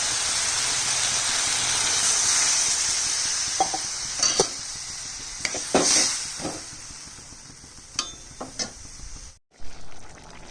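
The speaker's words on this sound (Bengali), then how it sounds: "এবার দিয়ে দেবো জল।" Water poured into a pan of sizzling spiced vegetables fried with cumin and dried red chilli gives a loud, steady hiss and sizzle that slowly fades, broken by a few sharp crackles and pops toward the end.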